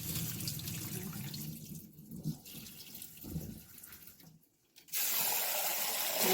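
Lentils are rinsed under running water at a kitchen sink, a steady tap stream with swishing and splashing that briefly quiets before the flow gushes again, with no voices.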